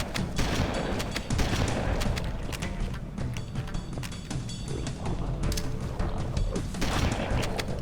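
Halo: Combat Evolved firefight with grenade blasts and bursts of gunfire, loud and dense throughout, with sharp cracks and booming thumps overlapping in rapid succession and no talking.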